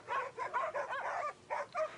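Young hunting dogs bay at a wild boar in the New Zealand bush, a rapid run of about eight loud, close barks with brief gaps, no talking.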